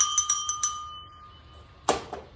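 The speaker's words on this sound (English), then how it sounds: "This is a glass bell." A few quick bright glassy rings, each sustaining a clear tone that fades slowly, followed by a sharper clink near the end.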